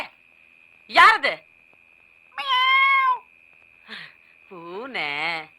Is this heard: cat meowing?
yes